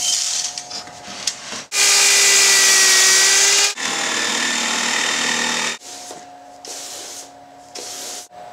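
A power saw cuts plywood outdoors at a house in several loud bursts of steady buzzing, each lasting about two seconds, with short gaps between them and a faint machine hum underneath.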